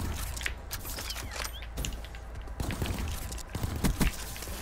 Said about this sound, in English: They're firing the fireworks and it sounds like a thingy.